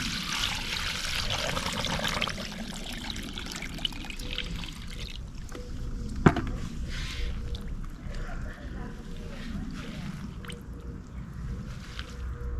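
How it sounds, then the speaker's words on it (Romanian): Water is poured into a bucket three-quarters full of celandine to make a plant macerate, a continuous splashing trickle up close that later thins to softer dribbles, with a sharp knock partway through. "Acum, după ce am umplut 3 sferturi din găleată cu rostopască, vom adăuga apă"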